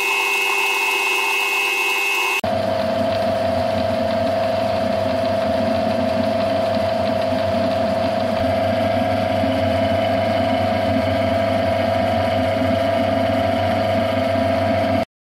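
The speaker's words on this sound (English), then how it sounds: "The bore is then reamed 12 millimeters." A metal lathe runs steadily with a constant motor hum and tonal whine while reaming a 12 mm bore, after a brief quieter start.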